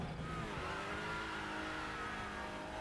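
A race car in the RaceRoom sim game, a TCR touring car, roars past with a steady engine drone and faint tyre noise, fairly quiet and continuous with no talk.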